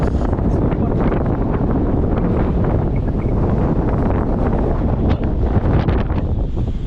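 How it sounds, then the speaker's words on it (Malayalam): Strong wind sweeps over the grass on Kalvari Mount, roaring and buffeting the microphone in a steady, loud rush, with a voice partly buried beneath it. "ഇവിടെയൊക്കെ കാറ്റ് കൊണ്ട് പുല്ലൊക്കെ പറക്കണുണ്ടോ?"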